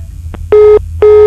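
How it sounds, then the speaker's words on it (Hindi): A telephone line drops during a call-in show, leaving a short blip followed by two evenly spaced, loud busy-line tones over a low background hum. "फोन फिर से कट गेल।"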